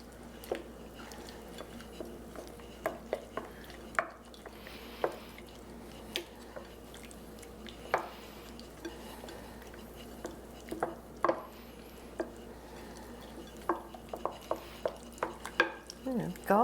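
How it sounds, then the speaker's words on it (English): Beaten egg being stirred into a lasagna filling of cheese, with soft wet squishing and scraping of a utensil against a bowl in irregular, fairly faint strokes over a low steady background hum. "Then I'm going to mix it before I add the rest of the ingredients."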